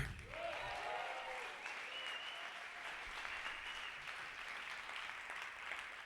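A crowd at a conference session applauds steadily for several seconds, a dense wash of clapping that stays even throughout.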